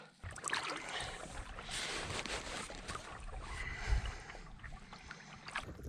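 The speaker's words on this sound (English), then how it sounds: "we're gonna paddle off into that distance there" Boat paddled on Loch Lomond toward a fog-covered island: a steady close wash of water and splashing, with one louder splash near the middle and light wind noise over the microphone throughout.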